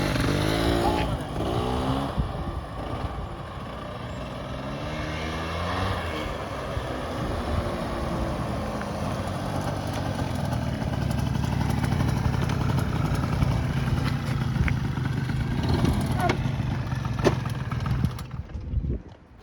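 A 1985 Honda Aero 50 two-stroke 50cc scooter engine runs steadily and loudly for the whole stretch, a buzzing putter with slight rises in revs toward the end before it cuts off.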